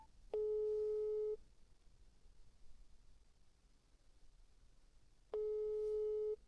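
A phone call's busy signal sounds as two separate one-second tones a few seconds apart, faint and steady against quiet background hiss.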